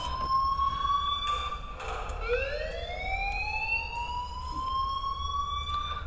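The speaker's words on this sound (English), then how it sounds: "please turn off that alarm" An alarm sounds in the video game Life is Strange, a rising and falling electronic wail that sweeps up in pitch and holds, steady and fairly loud over a low background hum.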